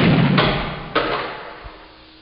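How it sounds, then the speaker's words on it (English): A small cannon mounted on a glider on an air track fires a cannonball, giving a sharp, close thump followed by a second, stronger thud about half a second later, then fading to quiet. "now I have to trigger the cannon"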